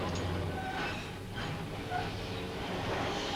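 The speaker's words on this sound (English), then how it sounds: "Car number 180 represents the most successful class of trams ever to run in Leeds." Leeds tram car number 180, a Horsefield or showboat type from the early 1930s, rumbles along steadily on the rails, a continuous low rolling noise with faint squeals and shifts partway through.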